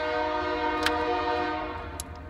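A train rumbles past close by with a steady droning horn-like tone, and a couple of sharp metallic clanks ring out over it.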